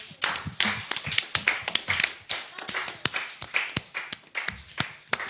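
A church congregation claps in a steady, irregular patter of sharp hand claps, moderately near and continuous, acclaiming the Lord during a worship service with faint voices in the background.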